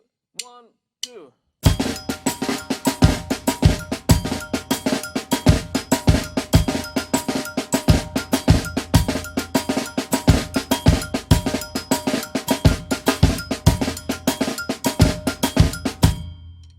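Drum kit playing a Brazilian rhythm with a bass drum figure, after two brief soft sounds: a dense, driving pattern of bright cowbell-like and cymbal strokes over steady low kick hits, loud and continuous for about fifteen seconds.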